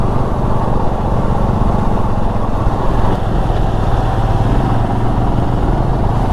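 A vehicle engine drones steadily and loudly throughout while driving along a winding hill road, with no voices over it.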